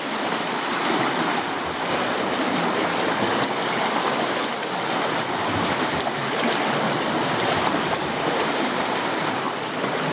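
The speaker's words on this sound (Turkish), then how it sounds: "Derenin akıntısı da çok." Steady, loud rushing water from a fast-flowing forest stream fills the whole clip, a continuous broadband roar like a fast current with no letup.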